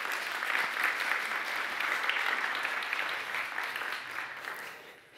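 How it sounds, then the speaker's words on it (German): Sustained audience applause at a lecture-style teaching challenge event, a dense steady wash of clapping from a crowd lasting throughout and tapering slightly at the end, with no talk over it. "Ein Riesenapplaus für die Studentin."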